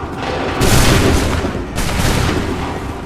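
A musket volley from a line of soldiers in Assassin's Creed 3 Remastered: two loud, rolling bursts of massed gunfire, the first near the start and a second about a second later, each trailing off into a dense rumble.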